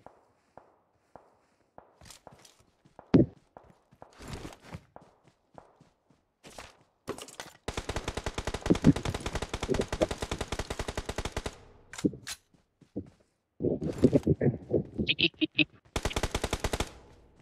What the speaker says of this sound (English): The people at the Raza keep shooting.